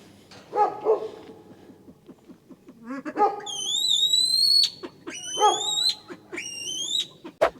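Dogs bark in short bursts while Pedro lets out high, drawn-out whistling whines in three long stretches, close and fairly loud.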